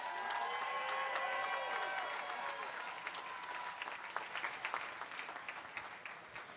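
Graduates at a USC graduate commencement ceremony receive applause from a large crowd, with cheering and whistles over steady clapping that thins into scattered claps, fairly distant and moderate in level.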